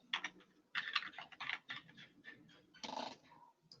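Quick bursts of clacking keys on a computer keyboard, close and quiet, with brief pauses between runs of typing.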